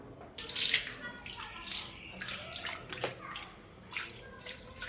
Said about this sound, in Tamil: ஃபஸ்ட்டு இப்படி தண்ணியை ஊற்றி